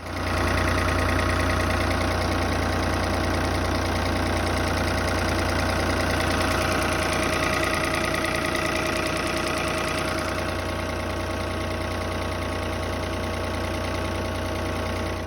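A diesel engine idles on a Fiat Crawler tractor fitted with a Bosch VE injection pump, making a steady, loud, close rumble with a knocking tick. The sound runs unbroken throughout and shifts slightly in tone partway through.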